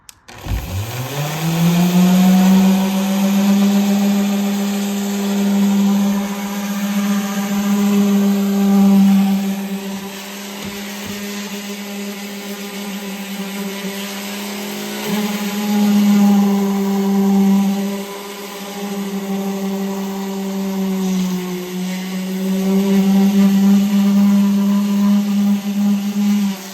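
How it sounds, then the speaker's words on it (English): A power sander works steadily over a truck storage box, its loud, sustained motor drone running nearly half a minute with small shifts in pitch as pressure and contact change. "It's now sanded."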